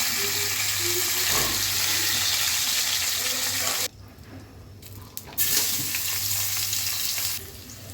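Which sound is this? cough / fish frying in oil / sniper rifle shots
fish frying in oil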